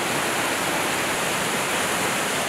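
A waterfall on Suter Creek, where coho salmon leap, pours in a loud, steady, broadband rush with no breaks.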